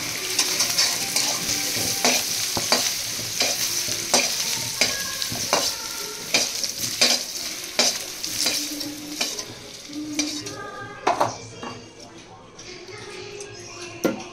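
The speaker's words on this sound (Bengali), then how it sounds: "এবার আলুগুলো ভাজা হয়ে গেছে," Potatoes sizzle steadily in hot oil while a utensil scrapes and stirs in repeated clicks, close and fairly loud throughout.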